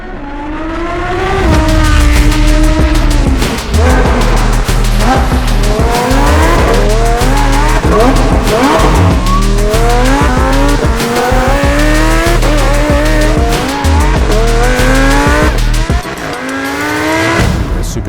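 A loud, aggressive 900-horsepower supercharged Lamborghini engine roars and revs repeatedly, pitch climbing through gears with sharp shifts and popping exhaust, close and sustained.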